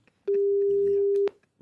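A single telephone ring tone on a radio call-in show, one steady tone lasting about a second, loud and clear, with brief talk around it.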